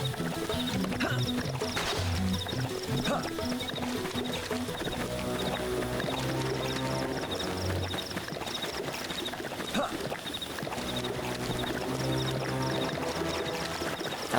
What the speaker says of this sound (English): I love how you can hear this dude quaffing down the water.